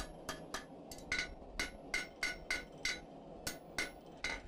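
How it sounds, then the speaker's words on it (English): A blacksmith hammers the top of a gate-latch barb against the sharp edge of an anvil: about ten evenly spaced, ringing metallic strikes at a steady pace, fairly soft, with no voice. "I'm going to try and dress the top of the barb with a sharp edge of the anvil."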